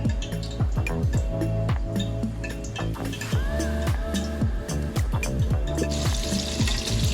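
Hot canola oil sizzles and bubbles steadily as a drop of water hits it, a loud, close, continuous crackle and pop with no talking.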